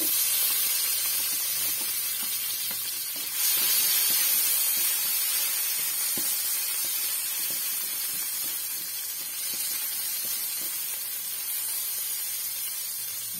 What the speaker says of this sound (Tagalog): mainit na po ang mantika. So, tara, nilagyan ko po yan ng kaunting margarine. Ilagay natin ang sibuyas natin.